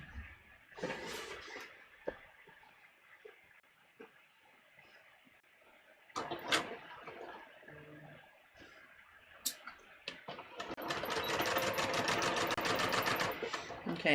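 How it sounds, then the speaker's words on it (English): A sewing machine stitching a muslin collar at a half-inch seam, starting and stopping in short runs before settling into a steady, louder stretch of rapid needle chatter near the end. "we're just going to sew this at 1/2 inch"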